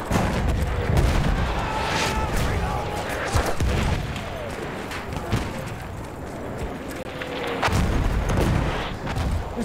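Enemy machine gun fire in Battlefield 1 at Gallipoli, dense rattling bursts and booming shots loud and close, mixed with battle noise and speech.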